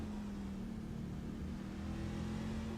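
Race car engine in a sim racing game on the Watkins Glen circuit, a steady droning hum held at a constant pitch throughout, with no clear revving swells.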